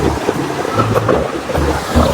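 Close waterfall at the Ellora area tumbling over rock, a loud continuous rushing roar with no break and no voices.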